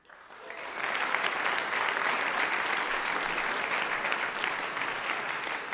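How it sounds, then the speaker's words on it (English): An audience applauds 60 Maple Leafs scholar athletes at an awards event. After a brief quiet start, the clapping swells into steady, sustained applause from a sizable crowd that holds at an even level to the end. "let's give a round of applause for the 60 Maple Leafs"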